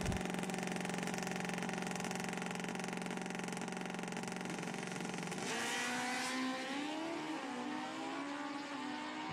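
Two Kawasaki ZX14 motorcycles at a drag strip, one new and one old, hold a loud steady high-revving engine drone that shifts and climbs after a few seconds as they launch and pull away, with no talk.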